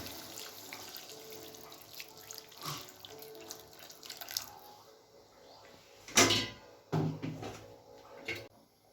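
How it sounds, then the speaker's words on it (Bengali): Heated water is poured into a pot of browned, cooking chicken, giving soft uneven splashing and trickling with a louder gush near the end, mixed with a few clunks of kitchen handling. "এবার আমি এতে জল দিয়ে নেব। আমি জলটা কিন্তু গরম করে নিয়েছি।"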